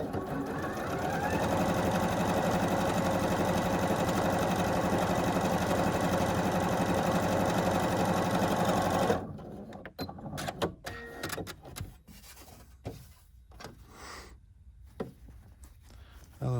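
A bernette b38 sewing machine stitches a blind hem with a steady, fast, close mechanical whir for about nine seconds, then stops, leaving quiet handling noises.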